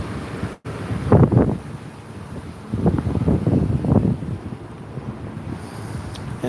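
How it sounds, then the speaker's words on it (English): Wind gusts outdoors buffet the microphone in dry, windy weather, producing loud rumbling bursts that come and go in uneven waves over a steady low roar. "It's windy and dry out here."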